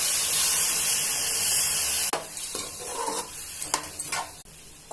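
Ivy gourd being stirred in a pan with turmeric and a little water, a steady hiss of steam and sizzling, then a few soft scrapes and taps of a spoon against the pan.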